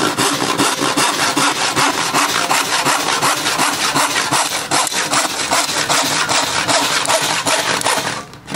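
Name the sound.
hand saw cutting wooden board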